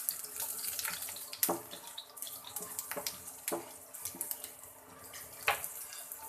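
Water poured into a pan of frying panch phoron spices with bay leaf, a soft rushing splash and sizzle with a few sharper crackles, faint and close, with no voices.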